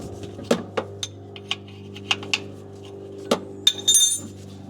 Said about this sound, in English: I'm gonna make sure my fill bolt loosens.